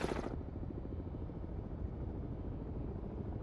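A helicopter in the submarine game Cold Waters gives a faint, steady, low rotor drone that stays level throughout, with a brief brighter hiss at the very start.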